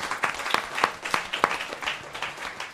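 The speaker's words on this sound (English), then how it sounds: "I'd like to give a round of applause to the Folk School Coffee Parlor for this place." Sparse applause from a small audience in an intimate folk-school coffee parlor listening room, a handful of separate hand claps spaced out over a few seconds, moderately close and fairly quiet.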